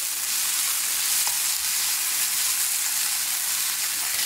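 A steady, even sizzle of onions sautéing in a pan for Kerala duck roast, continuous frying hiss with faint stirring, close and alone without talk.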